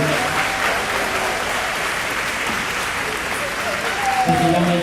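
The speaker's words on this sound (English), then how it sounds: "Can we give these seniors one round of applause?" Dense, steady applause from a banquet hall audience at a high school athletic banquet, honoring the seniors, loud and sustained across the whole stretch with a voice briefly heard at the end.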